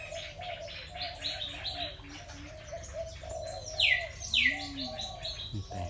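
Small birds chirp and tweet repeatedly amid a bonsai garden, with several short clear calls, a dove-like coo, and a couple of louder rising whistles near the end; no talking.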